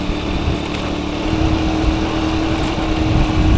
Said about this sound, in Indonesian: motor si Boncel nih, Honda Grand gua yang dimodif ala-ala C70